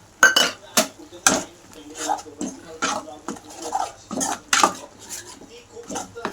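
Onion and egg masala being stirred in a metal pan: a rapid run of sharp spoon-on-pan scrapes and clinks in an uneven rhythm, close and fairly loud.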